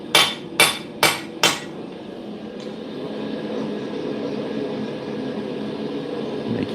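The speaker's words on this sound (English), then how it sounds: "I've started hammering out blanks, targeted blanks," Four loud, evenly spaced hammer blows on steel blanks being forged for a cutlass, ringing close up, followed by a low steady workshop hum.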